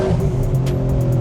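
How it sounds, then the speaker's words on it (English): A mid-engine Ford GT with a manual transmission roars loudly and continuously nearby as it accelerates, its revving tone sustained with faint high-pitched ticks above it. "Mid-engine, torquey, phenomenal sound, manual transmission"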